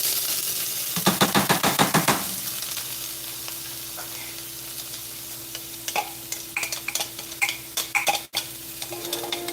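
Onions fry in a pan on a Samsung stove with a steady sizzle, broken by bursts of clattering as they are stirred and scraped.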